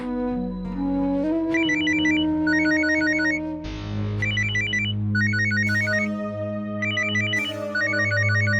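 A telephone ringtone chimes in repeated bursts of bright electronic tones over a steady low musical backdrop, with no voices.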